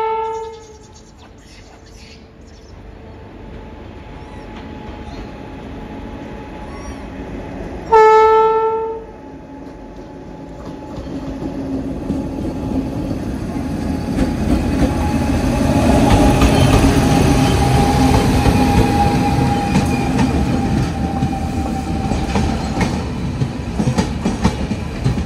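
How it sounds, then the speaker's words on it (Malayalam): Malwa Express pulling into a station platform bound for Ambedkar Nagar, with two long horn blasts early on, then a growing rumble and clatter of the train rolling in, steady and fairly loud to the end. "ഇവിടെ ഇപ്പോൾ ഒരു മാൽവ എക്സ്പ്രസ് എന്നൊരു വണ്ടി വരിക, അതായത് കട്രയിൽ അംബേദ്കർ നഗറിലേക്ക് പോകുന്ന ഒരു മാൽവ എക്സ്പ്രസ്."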